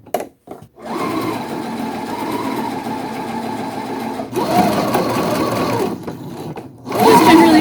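A sewing machine stitches along the folded edge of a pillow sham in loud, steady runs, first stopping and starting in short taps, then in a long burst, a second run after a brief pause, and a final start.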